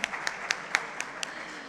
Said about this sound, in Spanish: aplaudimos un aplauso